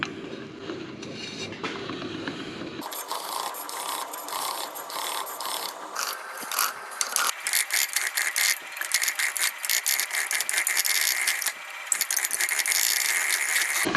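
Rapid ratchet clicking as a bolt is tightened during an LS engine swap into a second-generation Toyota 4Runner, with metallic mechanism chatter running in bursts, close and fairly loud, and no talking.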